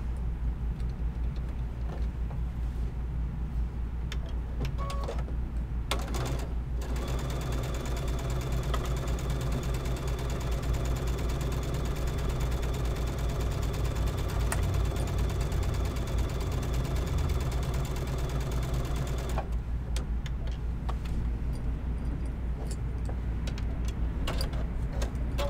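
Sewing machine stitching a leather zipper bag, producing a steady mechanical hum with a rapid regular needle ticking that runs continuously and close, with no speech.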